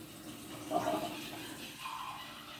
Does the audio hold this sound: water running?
yes